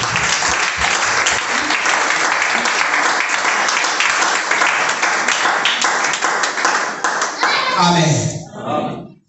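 Loud applause from a church congregation during a Sunday worship service, dense clapping running steadily for about eight seconds before thinning and fading, with voices rising near the end.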